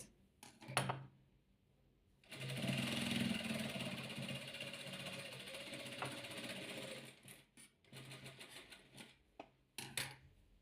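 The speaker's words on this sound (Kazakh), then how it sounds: "Төртінші қабырғасын тігіп жатырмыз." A sewing machine stitches one side of a patchwork quilt, a steady fast mechanical whirr lasting several seconds, bracketed by short bursts of starts, clicks and handling noise.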